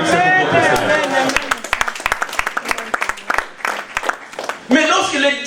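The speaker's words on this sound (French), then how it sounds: "Come on, applaudissez pour votre Seigneur." A church congregation claps and cheers for the Lord during a French-language sermon, first under the preacher's voice, then as distinct rapid claps through the middle before his speech returns at the end.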